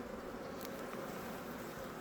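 Honeybees flying out on an evening orientation flight around the hive in mild spring warmth, a steady low droning hum of many wings, close and continuous without voices.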